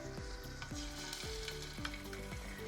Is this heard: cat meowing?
no